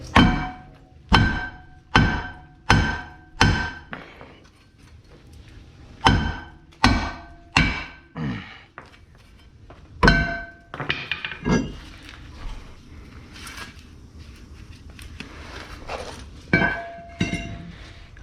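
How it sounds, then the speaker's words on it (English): A heavy 4-pound hammer pounds on the rear knuckle of a 2011 Lincoln MKS during a repair, landing as a run of loud, close metallic thunks in bursts with brief pauses between strikes. "I'm gonna grab a 4-pound hammer"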